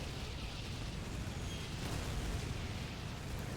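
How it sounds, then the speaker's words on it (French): A massive artillery barrage in Call of Duty (2003) on the Soviet Stalingrad campaign, a dense, unbroken roar of overlapping explosions rumbling continuously and loudly with no pauses. "Ils ont pas fait un barrage d'artillerie là, c'est 8000 pièces d'artillerie qui ont tiré."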